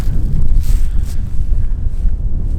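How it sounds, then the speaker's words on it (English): Strong wind buffets the microphone at a campsite on the Isle of Skye, a loud, gusty low rumble that swells and eases throughout with no one speaking. "Sorry if it's a bit windy"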